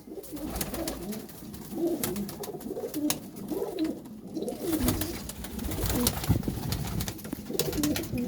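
Sialkoti flying pigeons coo repeatedly in soft, rhythmic throaty phrases, several birds close by, with light background clatter and no talking.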